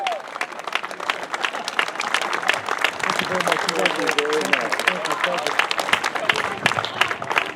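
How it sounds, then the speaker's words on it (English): A crowd at an outdoor racquetball Hall of Fame ceremony gives sustained, dense applause mixed with cheering and scattered voices throughout. "Let's give him another round of applause, guys."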